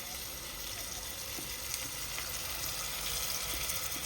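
Onions with ginger garlic paste fry in a pan, giving a faint, even hiss and sizzle that carries on steadily with no clear breaks and no voices.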